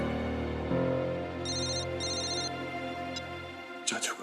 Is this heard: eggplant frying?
no